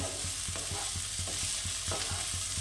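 Spring onion greens frying in a pan with potatoes, a steady close sizzle broken by regular scraping stir strokes roughly every quarter second.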